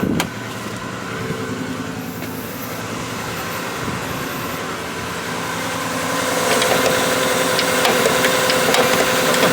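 A 1990 Subaru Legacy engine idles after a cold start, a steady mid-level mechanical hum that grows slightly louder partway through, heard close and without talking.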